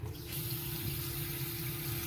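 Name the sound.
fresh water pumped out of boat's main tank into sink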